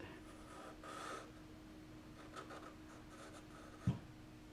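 Charcoal is drawn softly across paper during a portrait lesson of a man in profile. Faint, close strokes scrape in short passes, with a small knock near the end, and no one talks.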